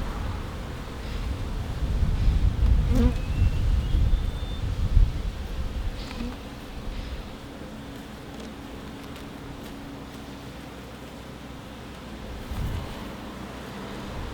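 Honeybees buzz around a brood frame pulled from a hive, a dense close hum with louder bursts in the first seconds, then settling into a steadier drone under light wind.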